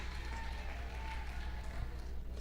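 A church congregation claps loudly and steadily during a worship service, a dense continuous wash of applause with crowd noise and voices mixed in throughout.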